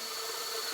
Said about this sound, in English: So get yourself a step drill if you ever need to make big holes.